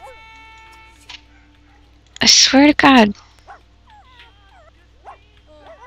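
A pet dog in a house gives a loud burst of yelping barks and whimpers, close by and lasting about a second, while someone talks in an annoyed voice before and after.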